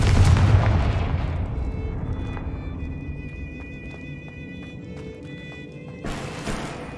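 A blasting spell in the Hogwarts Legacy video game goes off with a heavy booming explosion at the start, then a long rumbling decay with faint ringing tones and a brief burst of noise near the end.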